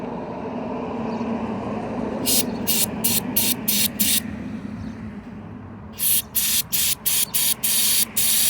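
Honda CBR600RR fuel injector being cleaned, firing a series of short, sharp hissing spray bursts in two rhythmic runs of about six pulses each over a steady background hum, close and loud.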